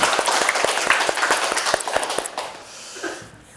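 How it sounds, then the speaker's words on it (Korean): An audience at a lecture hall breaks into applause, a dense run of hand claps for about two seconds that fades out and thins away toward the end. "박수 한번 칩시다."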